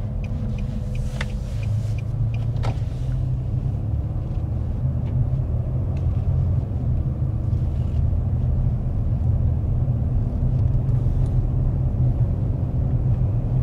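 A car rolls slowly around a small loop road in Ellaville, Georgia, giving a steady low interior rumble with faint road noise and a few brief clicks near the start.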